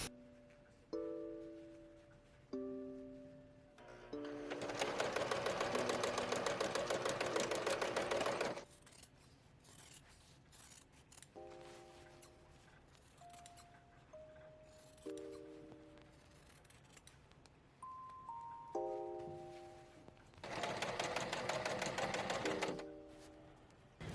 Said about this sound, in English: attach them with my sewing machine